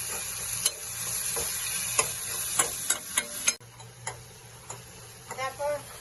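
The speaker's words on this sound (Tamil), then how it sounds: "இப்போ நல்லா அதை வதக்கணும். தக்காளி நல்லா மசிச்சிடணும்." Tomatoes with turmeric sautéing in a pan, a soft sizzle under sharp spoon taps and scraping as they are mashed, ending in a few louder squeaky scrapes.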